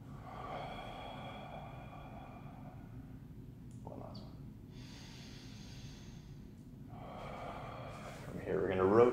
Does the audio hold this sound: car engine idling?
no